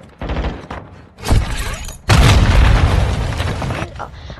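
A video game grenade goes off with a loud, close boom and a shattering crash, followed by a sustained roar of debris. A voice is heard briefly beforehand.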